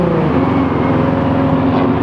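A diesel car engine at the London Tunnel Run rumbles steadily and loudly nearby, a low droning tone with a faint rising pitch held for the whole two seconds, no voices over it.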